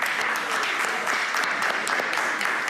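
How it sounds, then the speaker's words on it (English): A conference audience at a climate hub claps steadily for the participants, a dense and continuous wash of applause with no voices over it. "let's give a warm round of applause for our participants"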